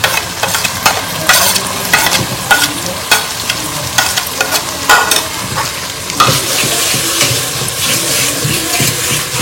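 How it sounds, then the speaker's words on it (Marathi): A masala of ginger, garlic, coconut, onion, red chili and coriander fries loudly over full heat, with dense crackling sizzle and rapid repeated scraping stirs throughout, settling into a steadier hiss toward the end. "आता आपण ना मसाला फ्राय करून घेऊ."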